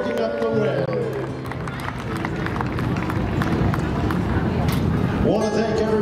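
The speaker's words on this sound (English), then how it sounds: "How about it, ladies and gentlemen, one more time, a big round of applause." A crowd at Seekonk Speedway's Victory Lane after a Monaco Modifieds 100-lap feature gives a sustained round of applause for the winner, with an announcer talking over the start and end.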